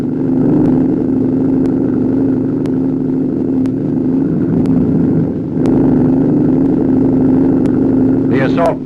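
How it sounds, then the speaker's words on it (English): Assault boats run up onto a beach during amphibious landing training, their engines droning steadily and loudly with faint periodic clicks, and a narrator speaks over the sound. "Assault boats hit the shore."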